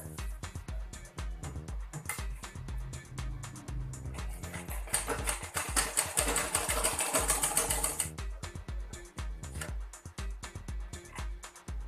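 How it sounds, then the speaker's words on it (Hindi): A sewing machine runs at close range, stitching a lehenga, its rapid mechanical needle clatter going in short bursts and a longer steady run in the middle, with no voices. "चलिए आइए अब सिलाई लगाते हैं। अब यहाँ पे हम पूरे में सिलाई लगा लेंगे 5 नंबर।"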